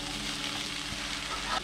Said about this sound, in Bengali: মোচাটা অবশ্যই এরকম লাল লাল করে ভাজতে হবে।